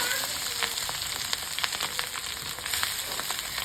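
Valaa fish roe, with egg added, frying in a pan: a steady, close sizzle with scattered sharp crackles and pops throughout.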